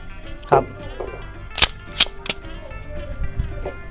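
A Glock 34 Gen 3 pistol fires several sharp, loud shots at irregular intervals at a range, with some background murmur between them.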